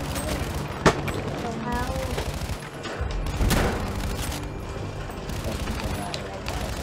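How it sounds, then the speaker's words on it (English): Battlefield 5 battlefield gunfire, continuous crackling rifle and machine-gun shots with a sharp near crack early on, while players talk over the steady firefight. "They're all shooting."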